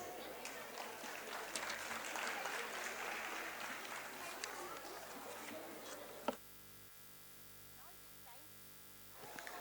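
Audience applause at a school prize distribution ceremony, a dense crackling wash of clapping for about six seconds, then cutting out to a steady electrical hum.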